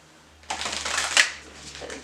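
Fyodor Pavlov Tarot cards are riffle-shuffled close up, a quick papery flutter of about a second that then trails off into softer rustling.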